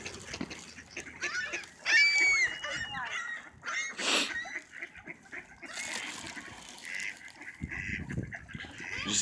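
Ducks and geese honk and quack while being fed outdoors, a busy overlapping chorus of close, moderately loud calls with splashes and scattered voices in between.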